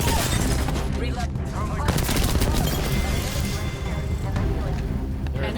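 Apex Legends gunfire in a dense, continuous firefight, with rapid automatic bursts and shots layered over loud game effects throughout, while a voice talks over the shooting.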